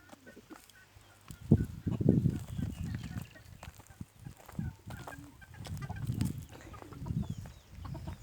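Backyard hens cluck and squawk in loud, uneven bursts close by, in a garden coop with new chicks, while someone speaks at intervals between them.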